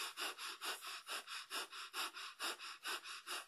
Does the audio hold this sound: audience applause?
no